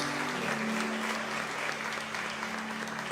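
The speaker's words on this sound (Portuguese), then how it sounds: "Aplaude a Ele bem bonito, irmãos, por favor." A church congregation applauds during a worship service, a steady wash of clapping from many hands with a sustained low musical tone or hum running underneath throughout.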